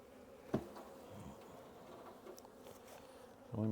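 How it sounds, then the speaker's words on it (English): Honeybees hum and buzz inside a hive box of empty frames during spring box reversal in Kentucky, a soft continuous drone close by, with a couple of brief knocks. "It's got bees in here."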